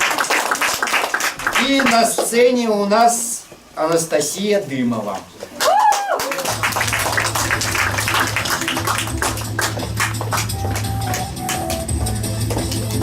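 Audience applause at a reading-aloud championship in Izhevsk, a steady wash of clapping that swells in after a short announcement by a voice and continues fairly loud and dense to the end.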